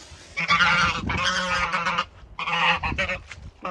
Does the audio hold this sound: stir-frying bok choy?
no